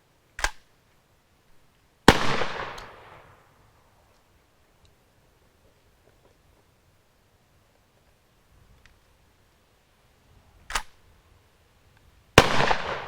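Shotgun blasts firing neglected old ammunition outdoors: four sharp reports spaced apart, two of them louder with short trailing echoes, quiet pauses between.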